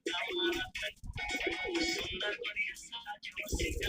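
A female Madras pigeon coos softly in repeated, close, throaty phrases, alongside some talk nearby.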